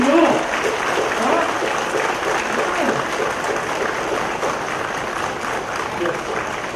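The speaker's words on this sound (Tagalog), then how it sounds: "Palakpakan natin!" An audience at a government oath-taking ceremony applauds steadily, the dense clapping staying loud and even for several seconds, with a few voices rising under it.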